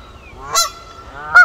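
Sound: geese honking by a pond

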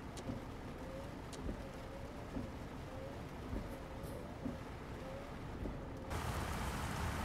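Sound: rain in video game Euro Truck Simulator 2

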